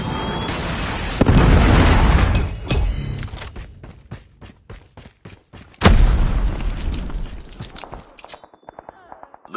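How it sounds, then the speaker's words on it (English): A Predator missile strike in Call of Duty Mobile explodes with a loud, close boom, followed by rapid bursts of gunfire and then a second heavy explosion with more popping shots after it. "Friendly Predator missile inbound."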